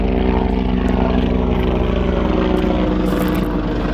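Helicopter passing overhead outdoors, a loud, steady rotor and engine drone with a continuous low throb that holds level throughout, drowning out everything else with no talking.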